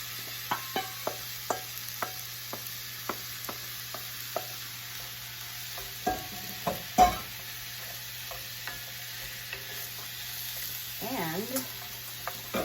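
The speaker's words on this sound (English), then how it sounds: "I'm going to go ahead and put these vegetables back in with the spinach" Vegetables and spinach for a frittata sizzle quietly in a pan while a utensil stirs and scrapes in repeated sharp clicks, with a faint voice near the end.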